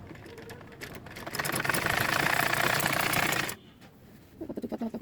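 A non-electric sewing machine stitches pleats into pajama fabric in a loud burst of rapid clattering, then pauses before a short run of quick rhythmic stitches at the end.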